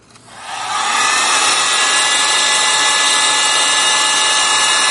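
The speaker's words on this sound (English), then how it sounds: "Wonder if the heat gun would dry it." Heat gun blowing over an encaustic wax painting, switching on with a quick rising whine and then a loud, steady, close airy roar with no talking.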